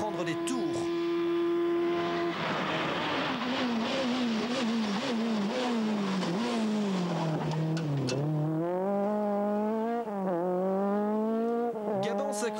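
A 1600 cc rally car engine revs high and hard, pitch climbing and dipping through repeated gear changes over about twelve seconds, loud and close, with tyre noise and a voice talking over it at the start.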